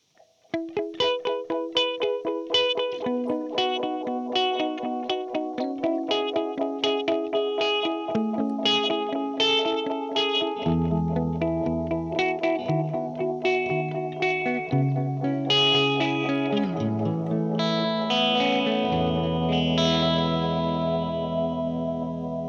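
Guitar notes played through a Hologram Electronics Chroma Console tape delay, each pick trailing repeating, slightly smeared echoes that stack into a dense, shimmering wash over the whole passage.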